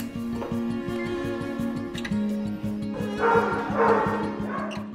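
Many dogs bark continuously at a county animal shelter, a busy overlapping chorus of yips and woofs that grows louder and more excited toward the end, heard alone without talk.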